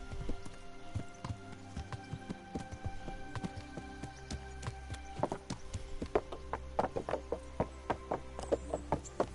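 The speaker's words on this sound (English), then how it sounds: "we've got a long horse ride ahead" Horse hooves in the video game Kingdom Come: Deliverance clop on a hard surface, irregular at first, then a quicker, louder rhythmic trot toward the end.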